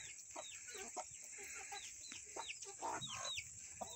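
Chickens in a backyard coop cluck repeatedly in short, bright bursts, several birds calling over each other at moderate distance against steady outdoor background noise.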